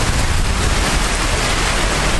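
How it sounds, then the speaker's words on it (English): Torrential rain pours in Ho Chi Minh City as a loud, dense, unbroken roar of heavy downpour close by, with no talking. "it is like torrential rain"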